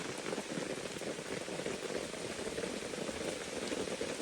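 Heavy rain drums steadily on a tarp over a hammock at a campsite during a thunderstorm, a dense, unbroken hiss that stays loud and close throughout.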